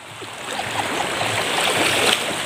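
Steady rushing water of the Pasonanca River fills the clip, a continuous broad wash without pauses, close and fairly loud.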